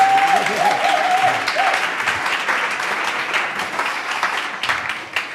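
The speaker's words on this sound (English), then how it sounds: "Big round of applause, please, for Sergio and his panel." An audience at an industry panel event gives sustained applause, a thick steady roar of clapping with a brief tonal whistle or cheer early on, loud and continuous.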